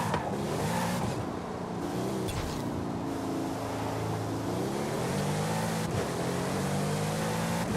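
Pagani Huayra hypercar in Forza Horizon 5, stock with no mods, its engine droning steadily and rising in pitch as it accelerates and shifts, close and continuous with no talking.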